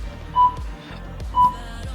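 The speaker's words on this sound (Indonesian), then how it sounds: "tap here to add, please wait to hear double beep" A CCTV PTZ 360 security camera gives two short, clear electronic beeps about a second apart during pairing, over a low room hum.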